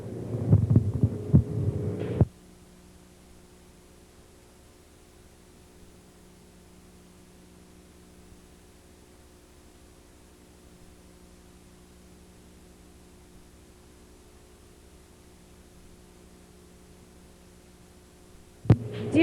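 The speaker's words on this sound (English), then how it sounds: "This is a condensate pump." A condensate pump in a school basement room gives off a low, steady hum with faint pulsing, quiet and continuous, framed by brief louder handling noise at the start and end.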